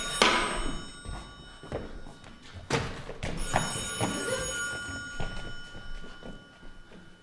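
An old-style telephone bell ringing in a theatrical stage scene, several sharp rings spaced out amid thumps and bumps, fairly close and clear with little else around.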